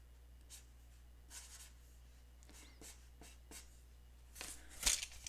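A pen scratching on paper, soft intermittent strokes close to the microphone in a quiet room, ending with a brief louder scribble.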